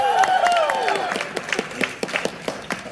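Audience applause and cheering at a live game jam contest event at PAX 2022, a dense wash of clapping with scattered sharp claps and a few whistles, loud and sustained across the room.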